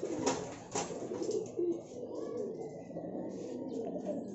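Pigeons coo softly and repeatedly as they are put into an enclosure, low and fairly near, with brief faint voices between the calls.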